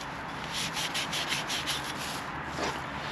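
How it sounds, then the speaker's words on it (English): A deburred 3/4 copper pipe end is scuffed and cleaned before a press fitting, giving a steady rhythmic abrasive rubbing close up, repeated strokes of even loudness with no talk. "just slide it, scuff it and clean it"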